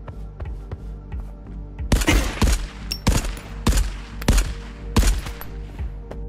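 Gunfire from an M1A1 rifle in the video game Marauders: faint distant shots at first, then a string of loud, sharp close-range shots fired at an irregular pace, each with a booming tail.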